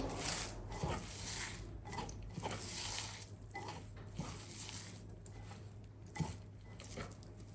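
Dried chilli, coriander leaves and onion are mixed together by hand in a bowl, giving a close, soft, squishy rustling with occasional light taps and clicks, steady throughout with no talking.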